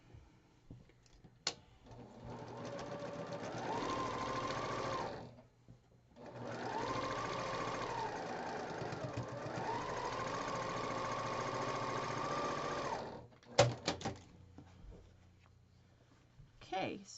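Sewing machine running in two long bursts as quilt block pieces are stitched together, steady mechanical whir with a short pause between runs and a few clicks near the end.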